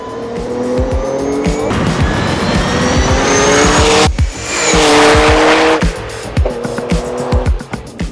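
A Nissan R33 GTR V-Spec engine screams close by, rising in pitch through the gears with bursts of tire squeal and skidding.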